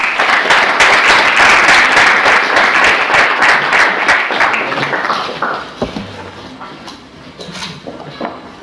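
An audience claps to welcome a guest speaker, a loud dense round of applause for about five seconds that thins into scattered claps and fades into quiet room noise.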